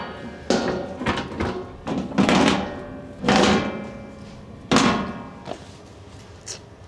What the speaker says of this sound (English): just put this door back